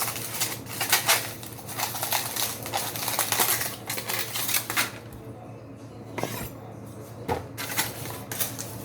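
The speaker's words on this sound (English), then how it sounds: "I'm gonna chop up your onions." Knife chopping onions on a board while cooking a Caribbean dish, a run of rapid, close, sharp chops in bursts with short pauses, alone with no talking.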